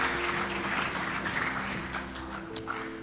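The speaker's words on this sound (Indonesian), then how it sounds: "Sekali lagi berikan tepuk tangan untuk Tuhan kita." A church congregation applauding during an Ascension Day service, a dense wash of clapping with a steady low hum underneath and a few sharper claps near the end.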